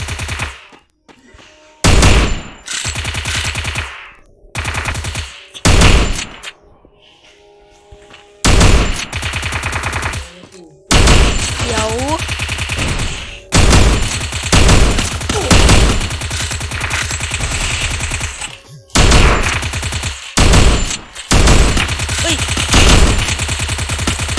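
Rapid machine gun bursts from a ranked-mode shooter video game, loud and close, fired in repeated volleys separated by short pauses, with occasional sharper single shots and brief gaps of quiet between the bursts.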